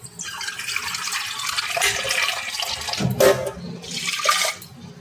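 Water pours and splashes in a kitchen as lentils are washed, a steady rushing flow with a few louder sloshes near the end, heard alone without talk.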